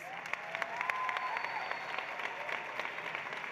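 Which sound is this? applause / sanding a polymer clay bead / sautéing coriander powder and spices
applause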